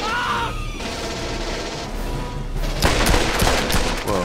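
Gunfire from Aliens: Colonial Marines: a continuous roar of weapon fire and combat noise, with a rapid burst of sharp, louder shots near the end.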